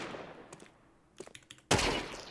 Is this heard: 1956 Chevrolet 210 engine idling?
no